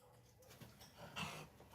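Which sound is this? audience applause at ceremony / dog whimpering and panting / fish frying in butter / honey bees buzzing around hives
dog whimpering and panting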